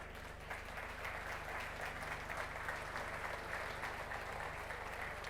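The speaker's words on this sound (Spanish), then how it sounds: "por favor, el aplauso para él." Audience applause at a corporate event welcoming the CEO of an insurance company to the stage, a steady, continuous patter of many hands clapping throughout without pause.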